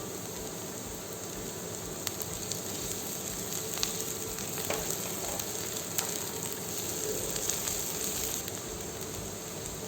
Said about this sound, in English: saute it very well. Now add fine chopped garlic,